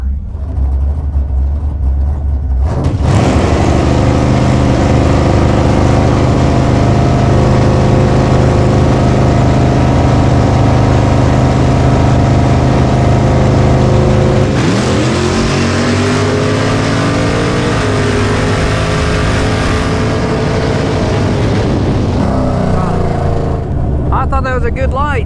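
A bracket race car on a drag strip roars with a loud, steady engine drone that shifts pitch sharply about midway through the launch and run, then settles back into a sustained rumble.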